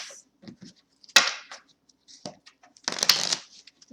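A deck of Osho Zen Tarot cards is shuffled close by in short riffling bursts separated by quiet pauses, two of them louder and fuller, with no one speaking.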